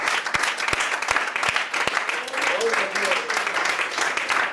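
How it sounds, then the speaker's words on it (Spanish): Applause from a church congregation during a Spanish-language service, a broad sustained wash of clapping with a few sharp individual claps standing out early and voices carrying underneath. "denle un aplauso al Señor"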